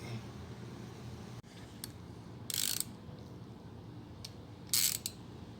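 A ratchet works a 15 mm bolt on a transfer case cross member under a vehicle, with faint clicking and two short, loud bursts of rapid ratcheting, no voices.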